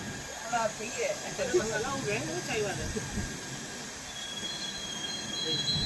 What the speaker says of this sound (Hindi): तो भाई नौचंदी एक्सप्रेस से अपनी क्रॉसिंग हुई है, पहली क्रॉसिंग अपनी।